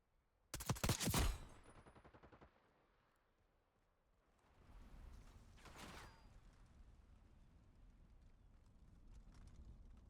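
A burst of rapid video game gunfire rings out loud and close, followed by a second shorter volley a few seconds later and then a low rumbling background.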